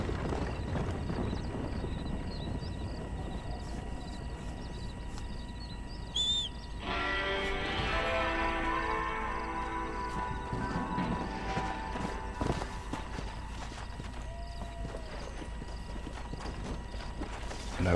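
Horse hooves clip-clop in a steady rhythm in Red Dead Redemption, with a brief whinny partway through and other game sounds underneath, no talk.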